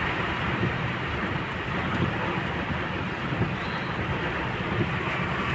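Heavy storm rain pours down on a flooded road, a dense steady hiss of rainfall and water with gusty rumble beneath, loud and unbroken from start to finish with no voices.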